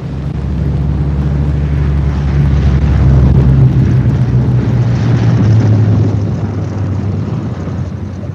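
A WWII bomber lands at an airfield with its left inboard engine dead, a loud, steady propeller drone with a low rumble that swells in the middle and then eases slightly.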